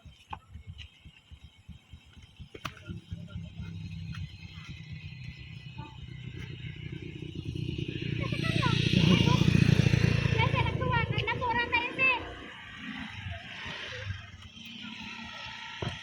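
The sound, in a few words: motorcycle engine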